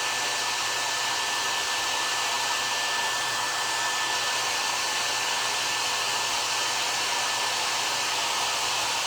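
A hair dryer runs continuously at full power while drying a craft clock made from a Dollar Tree box, giving a steady, loud, close airflow whine with no pauses or talking.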